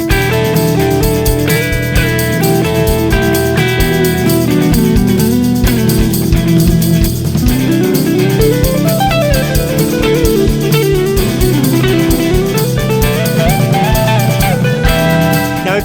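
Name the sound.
electric guitar through amp with drive pedal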